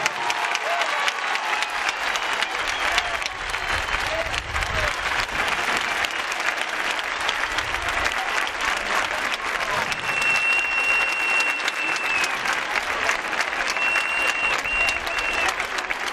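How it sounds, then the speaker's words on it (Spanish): Large crowd at a street demonstration in Linares, Spain, applauding: sustained, dense, even clapping that carries on steadily throughout, with occasional faint whistles and shouts. "Linares tiene que aplaudir vuestra presencia."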